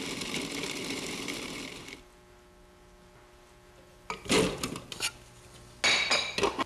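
A Cuisinart Classic Series food processor motor roars while grinding meat, stops to a faint hum, then starts again in short, loud, rattling bursts.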